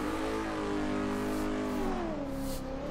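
A drift car circles a practice track ahead of an HDC round, its engine a loud, sustained drone close by that rises and falls in pitch as the revs shift.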